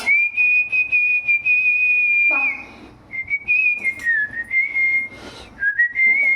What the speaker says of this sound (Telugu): విజిలు చెవులు పోతాయి.